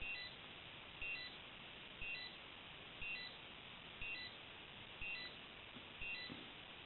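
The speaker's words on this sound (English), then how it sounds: "we'll hear the alarm 1, which is alarm double syllables" A faint electronic double beep from an Omega Speedmaster Skywalker X-33 watch alarm repeats about once per second, a steady series of short two-tone chimes over a low background hiss.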